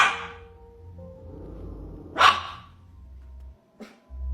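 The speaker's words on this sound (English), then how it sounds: "her dog could be barking at a ghost" A dog barks a few times at a distance inside a home, sharp isolated yelps spaced apart over a low background hum, with no talking.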